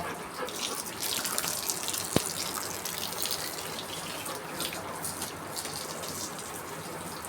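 Water pours steadily from a tap or pipe during a bath on a hot day, a continuous close gushing splash with one brief knock partway through.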